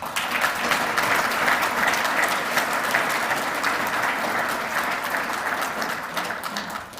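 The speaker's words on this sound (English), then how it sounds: "Please give him another round of applause." A keynote audience gives sustained applause for Senator George Edwards, a loud, dense, continuous clapping that holds steady for several seconds and eases slightly near the end.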